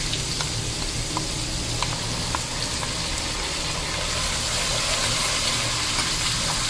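Green chili paste frying in a pan for an aloo baingan curry: a loud, continuous close-up sizzle and hiss with scattered small pops and crackles, no voices.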